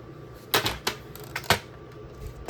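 Scissors snip through paper for a scrapbook page in a few crisp, separate cuts, up close with short pauses between them and no speech.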